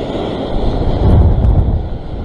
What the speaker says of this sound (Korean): 두 번째 파도 크다.